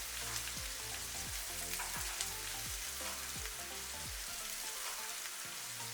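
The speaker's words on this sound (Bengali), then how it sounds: "পেঁয়াজ কুচিটা দিয়ে খুব ভালোভাবে আমি এটাকে নেড়ে দিব যতক্ষণ না পর্যন্ত পেঁয়াজটা সফট" Chopped onions frying in oil in a pot for chicken biryani, stirred over a medium-low gas flame: a steady, soft sizzle with a faint rain-like crackle and a low repeating rhythmic pattern, no voices.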